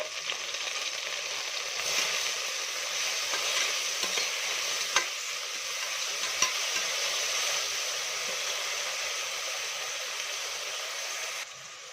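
Ginger garlic paste, chopped mint and coriander fry in hot oil for kushka rice, a steady close sizzle with faint stirring clicks and no voices.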